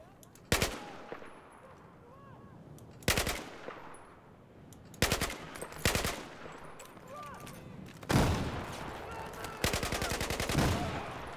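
Bursts of LMG machine gun fire in the Battlefield 4 video game, several sharp sustained volleys separated by brief pauses, loud and close over a low battlefield background.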